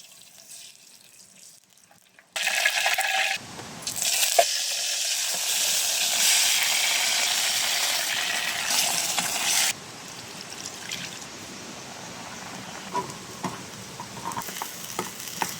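Marinated adobo sizzles loudly in a pan cooked outdoors at a camping spot by Utod Falls in Magallanes, Cavite. A strong hiss bursts in and lasts several seconds, then eases to quieter bubbling and stirring.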